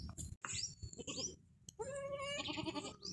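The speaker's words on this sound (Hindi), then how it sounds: "ये बकरी है और इसके जो वो है ना वो 2 बच्चे हैं।" A goat with two kids bleats close by, several wavering cries one after another, the last one long and quavering, with a few faint thumps between calls.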